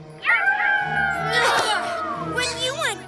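Cartoon wolf howl produced by a Wolfie Howl simulator in an animated kids' show, with long gliding wavering howls layered with music, fairly loud and sustained across the clip.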